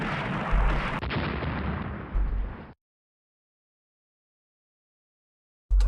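Naval gunfire from a cruiser engagement in the naval strategy game Rule the Waves, heavy dense booming salvos for nearly three seconds with a louder thump midway, then abrupt silence before another blast cuts in at the end.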